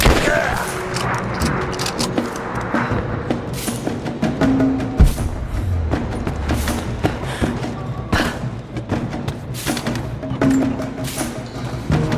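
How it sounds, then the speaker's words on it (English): Sustained gunfire and muffled booms in the Rise of the Tomb Raider Baba Yaga temple DLC, a dense combat din with scattered thuds under continuous shouted voices. "Advancing to cover! I'm under fire!"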